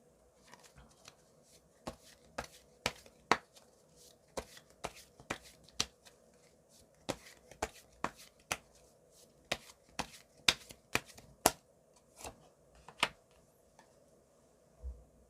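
Tarot cards shuffled by hand in a quiet room, a run of crisp, irregular riffling snaps and slaps close to the mic, with no speech over them.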